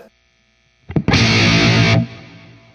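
Electric guitar played through the clean channel of a tube amp with a DIY overdrive pedal switched on: a short click, then a loud, heavily saturated distorted chord ringing for about a second before cutting off to a faint hum.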